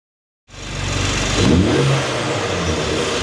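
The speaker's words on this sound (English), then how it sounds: "So now let's give the car a couple of revs to hear how it sounds." BMW G87 M2 fitted with an Eventuri carbon fiber intake, Alpha N and FI exhaust, revving up hard from silence into a loud, sustained engine roar that holds steady before easing slightly.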